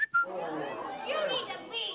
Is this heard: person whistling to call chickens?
yes